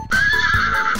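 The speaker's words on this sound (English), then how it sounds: "even Woody's horse Bullseye is here" Horse neighing, Woody's horse Bullseye from Toy Story in a children's cartoon: a single loud, close whinny lasting about a second.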